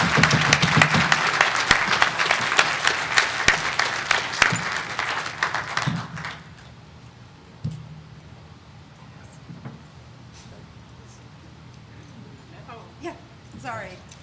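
Audience applause at a BSidesLV 2025 security conference session, a loud dense burst of clapping for about six seconds that cuts off, leaving quiet room noise with a few scattered claps and faint murmurs.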